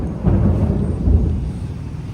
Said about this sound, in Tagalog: At ito may pumutok na ang lakas ng kidlat.